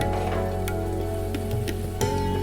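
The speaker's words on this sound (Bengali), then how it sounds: "সবগুলোকে একসাথে নাড়াচাড়া করে নিচ্ছি" Cabbage fries in a pan with green chilli and spice powders as it is stirred, giving a steady close sizzle with sharp clicks of a spoon scraping the pan.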